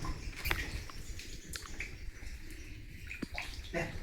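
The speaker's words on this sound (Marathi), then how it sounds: "काका पाणी पित आहेत बघा पाणी पित ना" Water trickling and splashing inside a rock cave in Kudal, Konkan, as a man drinks, soft close drips and gurgles with a few sharp splashes, quiet and without talk.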